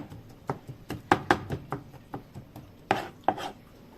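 A knife chops tomatoes and green peppers on a board in about a dozen sharp, close knocks at an uneven pace, some strikes harder than others, with no one speaking.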